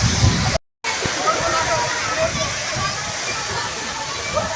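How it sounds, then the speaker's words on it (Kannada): Fast-flowing water rushing at Huligemmana Kolla, a scenic gorge site, as a steady broadband hiss and churn close by, briefly cut to silence near the start, with people talking over it. "ಸೊ ಇಲ್ಲಿವರೆಗೂ ನೀರು ಸ್ಪೀಡಾಕಂತ ನೋಡ್ರಿ."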